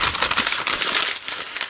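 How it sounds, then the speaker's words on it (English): Paper crinkles and crackles up close in a continuous, busy rustle, loud and crisp with no voices. "I'm crumpling my paper, and I'm sorry if it's noisy."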